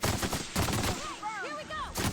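Rapid bursts of gunfire in The Outer Worlds snap out in quick clusters, then pause while whooshing, warbling sci-fi weapon or energy effects sweep through, before another short volley closes it out.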